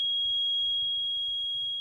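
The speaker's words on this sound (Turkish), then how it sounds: "Gaz kaça eğer evimize girdiğinde bu led sönüyor, buzzer ötmeye başlıyor." A gas sensor alarm's steady, high-pitched electronic buzzer tone sounds continuously, loud and unbroken, with faint low rumbling beneath it.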